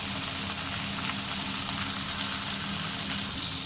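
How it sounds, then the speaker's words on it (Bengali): Fish fry in a hot pan with oil, giving a steady, close, continuous sizzle that does not let up. "এবার এই পিঠটাও একটু ভেজে নিচ্ছি।"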